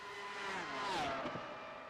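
Race car engines in a Mexican Grand Prix rise and fall as cars pass, one engine whining upward then dropping in a single close pass over a steady roar from the field, with no talk.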